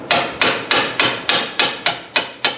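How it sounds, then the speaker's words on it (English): Eight sharp metallic hammer taps on a 2010 Toyota RAV4 wheel hub part in a steady rhythm, each ringing briefly before the next strike, close and fairly loud. "take a hammer and tap it over"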